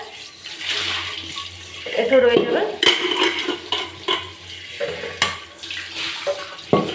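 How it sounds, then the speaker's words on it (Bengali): Tap water from a household tank runs with weakening pressure while a cooking pot is scrubbed, steady splashing and scraping close up, with someone speaking briefly over it. "ট্যাঙ্কির জল মনে হয় আমার শেষ হয়ে যাচ্ছে এই যে অল্প জল আছে ভিজতে পারা যাচ্ছে পাওয়ারটা কমে যাচ্ছে"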